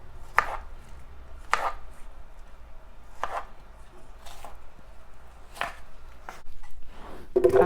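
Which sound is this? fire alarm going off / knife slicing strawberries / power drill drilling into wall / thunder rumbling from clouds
knife slicing strawberries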